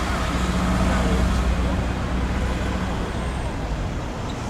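Car traffic in the town centre of Strzyżów, Poland, a continuous loud roadway hum of passing vehicles nearby, steady throughout with no talk over it.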